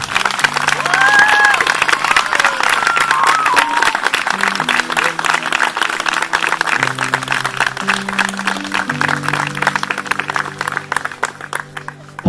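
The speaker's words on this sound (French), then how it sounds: "je voudrais un tonnerre d'applaudissements pour nos mariés" Wedding guests applaud the newlyweds with steady, dense clapping that fills the room throughout, with a few cheers near the start and low sustained music tones running underneath.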